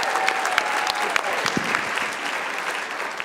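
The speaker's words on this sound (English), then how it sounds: "Round of applause for couple number two, Angelleen and Steve" A crowd at a Dancing with the Stars charity dance competition applauds couple number two, Angelleen Peters-Lewis and Steve Brockman, with steady, dense clapping from many people throughout and a few sharper claps standing out.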